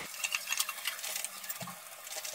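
Boiled moong dal with a broken rui fish head is stirred in a pan, giving soft wet stirring and patter with light scraping against the metal, close and continuous, with no talking.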